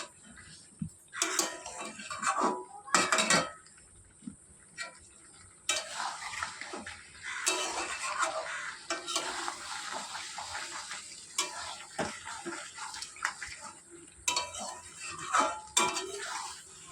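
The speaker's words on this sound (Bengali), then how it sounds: "এবার আমি ভালো করে নাড়াচাড়া করে নেব। আমার সবজিগুলো নরম হয়ে গেছে।" Spoon scraping and clinking as softened vegetables for shukto are stirred in a cooking pot, with irregular bursts of stirring and light metallic knocks, close and moderately loud, no talking.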